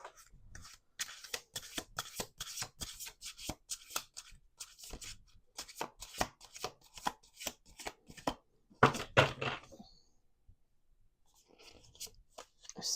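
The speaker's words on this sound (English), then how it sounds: "We're going to do 2 more shuffles." Cards are shuffled in rapid, crisp riffling bursts with short pauses between, close and clear with no talking.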